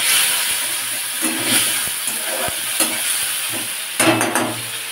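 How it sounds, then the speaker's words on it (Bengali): Tomato dropped into hot tempered oil for a vegetarian bottle gourd dish sends up a loud, steady sizzle and hiss in the pan, broken by a few sharp crackles and spatula scrapes. "এই সময় আমি দিয়ে দেবো টমেটোটা।"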